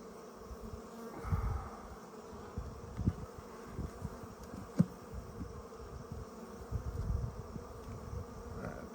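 Honey bees buzz steadily around a hive frame full of nectar, a dense, continuous hum close by with swells of louder wingbeat activity as the colony grows agitated.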